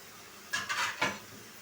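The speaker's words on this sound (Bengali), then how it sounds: "সাথে আলুগুলো দিয়ে দেবো" Potatoes tumble into a pan of fried, cooked-down spice paste, making a short burst of clatter and a soft sizzle around a metal pan, fairly close and brief, with no speech.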